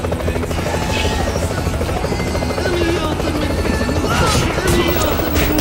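A helicopter in the video game Double Dragon Neon, its rotor chopping steadily and loudly throughout amid game effects, with someone talking over it.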